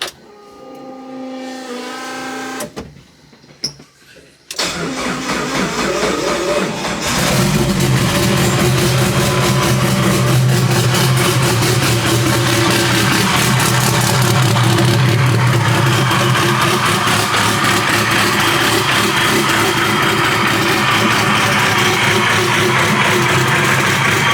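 An SRT4-engined Chrysler Caravan minivan engine cranks briefly, then catches and settles into a loud, steady running drone with a rough low rumble, continuing close by without talk.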